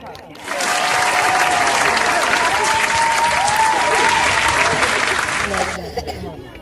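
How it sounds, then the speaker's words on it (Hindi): At a school awards ceremony, an audience breaks into loud, sustained applause welcoming a guest to the stage, the clapping swelling in quickly, holding steady with a voice heard over it, then fading out near the end. "आपकी भरपूर तालियों में सर यूनुस सिखानी साहब।"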